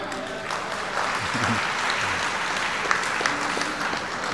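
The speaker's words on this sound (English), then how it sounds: "Can you give a good clap?" Steady applause from a conference audience at a bank officers' association state conference, a dense wash of clapping sustained throughout with faint voices mixed in.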